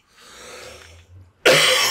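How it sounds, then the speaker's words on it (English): A single person gives a faint breathy throat sound, then a sudden loud, sharp cough bursts out close to the microphone. "once I start coughing right now, I don't stop"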